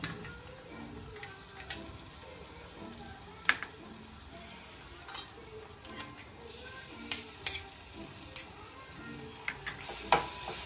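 Ginger, garlic and chili paste sauté in hot oil on low heat, a soft continuous sizzle broken by sharp clicks and scrapes of a spoon against the pan at irregular intervals.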